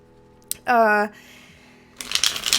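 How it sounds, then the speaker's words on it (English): Tarot cards riffle in a quick shuffle near the end, a crisp fluttering burst following a short spoken tone and quiet handling noises. "I'll start shuffling up here for us"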